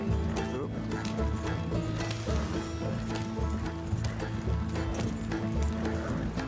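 Horses galloping in the open-world western game Red Dead Redemption 2, a steady rapid clip-clop of hooves with wagon rumble beneath, continuous and close, alongside game music and ambience.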